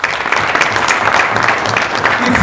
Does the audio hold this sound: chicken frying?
no